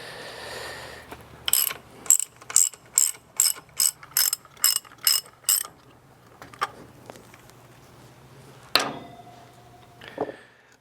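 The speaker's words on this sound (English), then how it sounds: "we're gonna go ahead and take the bolts out here to get the motor plate. So again, we're using a" A ratchet wrench with a 9/16 socket backs out the bolts holding the motor plate on a pool pump, giving a fast run of about ten crisp, evenly spaced clicks. A pause and a few scattered mechanical knocks follow.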